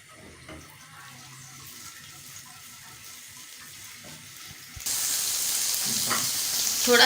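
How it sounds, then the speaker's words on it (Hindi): Ginger garlic paste drops into about two spoons of hot oil, a quiet start giving way to a bright, steady sizzle that swells louder toward the end. "अब इसमें हम थोड़ा सा अदरक लहसुन का पेस्ट डालते हैं, तकरीबन 1 चम्मच।"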